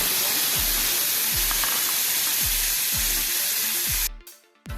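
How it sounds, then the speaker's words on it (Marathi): Chopped tomatoes sizzle loudly in hot oil in a kadhai, a steady broadband frying hiss with faint low thumps under music, ending abruptly near the close. "हे मऊ होईसपर्यंत टोमॅटो आपण हे परतून घ्यायचे आहे"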